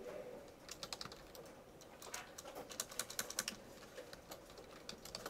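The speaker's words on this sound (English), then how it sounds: "I typed the word input and then backspaced over it" Fingers type on a computer keyboard in a fairly quiet room, a run of soft, irregular clicking keystrokes, including backspacing, close by with no talking.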